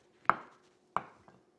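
A knife slices the end off a cantaloupe on a cutting board, giving two crisp cuts followed by a faint tap, close and quiet, with no talking.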